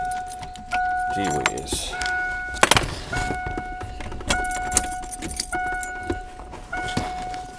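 Car keys jangle and clack close by while a Ford Foxbody steering wheel is unlocked at the ignition, with a steady chime ringing in the car and a brief spoken exclamation over the rattling.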